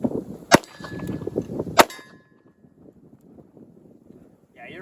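Two sharp, loud gunshots from a 9mm Makarov blowback pistol fired outdoors, about a second apart, each cracking over wind and nearby talk before fading into quiet.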